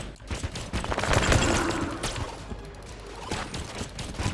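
Rapid gunfire from a weapon in the twin-stick shooter Enter the Gungeon, a dense continuous burst of loud crackling shots that swells and then holds steady throughout.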